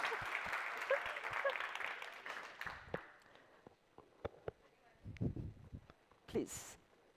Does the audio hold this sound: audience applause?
yes